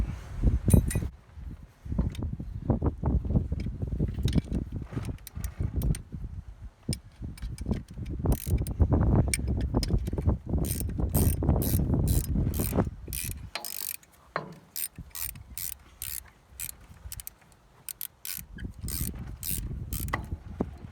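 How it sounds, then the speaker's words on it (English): Ratcheting wrench tightening the starter bolts on a John Deere 2010 tractor: loud, close bursts of rapid clicking ratchet strokes, repeated in runs with short pauses between. "we're gonna tighten these bolts back up"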